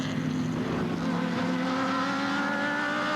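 A Scarab race car in a vintage sports car race passes with a sustained engine roar whose pitch shifts as it closes in and moves away, loud and continuous.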